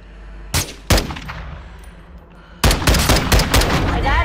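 Gunfire in the video game Warzone: two sharp shots early on, then after a lull a rapid burst of repeated shots, loud and close.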